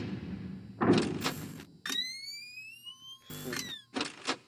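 Doors in the horror video game Five Nights with Candy shut quickly, several sharp mechanical sliding and slamming bursts separated by gaps, with a rising electronic whine between them.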